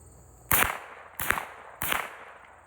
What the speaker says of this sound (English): A little moving and shooting.